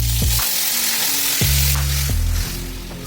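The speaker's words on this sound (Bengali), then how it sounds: "এবার সেদ্ধ ডালটা দিয়ে দিচ্ছি।" Boiled dal poured into hot ghee tempered with cumin seeds, broken dried red chillies and ginger paste sets off a loud, steady sizzle and frying hiss, with a few stirring knocks, easing slightly toward the end.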